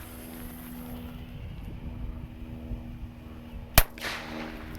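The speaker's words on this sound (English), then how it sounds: "that is the M60 Firecracker, and it says warning explosive" An M60 firecracker exploding outdoors on a windy day: one sharp, loud bang stands out against a steady rumble of wind, with a brief echoing tail after the blast.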